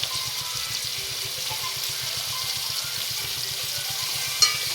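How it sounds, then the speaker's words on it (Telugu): Onion with coriander and curry leaves fries in a pan, a steady, soft hiss of sizzling oil over faint rhythmic stirring, with one brief sharp knock near the end. "దీన్ని కొంచెం ఎర్రగా వచ్చేదాకా వేగనివ్వాలి."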